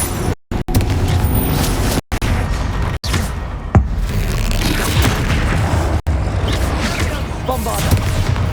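A Bombarda spell explodes in the Hogwarts Legacy video game battle, a loud, dense blast of booming noise that rumbles on continuously, cut by a few short gaps of silence.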